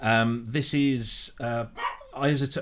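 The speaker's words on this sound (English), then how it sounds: "Oh, that was a dog." A dog barks several times in quick bursts, close and fairly loud, tangled with someone talking over it.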